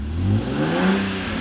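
A BMW E46 M3, just converted from SMG to a six-speed manual, revs briefly toward 3,000–4,000 rpm on its first start, a loud, close engine swell that rises and falls once with no talking.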